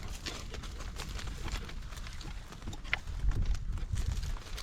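A Morgan gelding pulling a carriage on a blustery, windy day, its hooves clip-clopping faintly in a steady rhythm under broad wind rumble and background noise.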